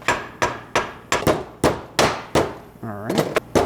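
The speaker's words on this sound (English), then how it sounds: "Need a heavier hammer is what I need." Sharp metallic hammer strikes on metal being shaped into a flower ring out in an irregular series of about ten blows, close up, with a brief scraping ring near the end.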